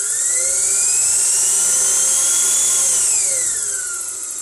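An electric motor under regenerative braking gives a loud, high whine that holds steady and then falls quickly in pitch as the speed drops, fading near the end, with no talk.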